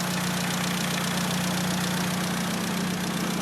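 A VW Golf GTI Clubsport Mk7 fitted with a new Fastline FL530 big turbo and fresh oil idles steadily nearby, a smooth, even low hum that runs unbroken throughout.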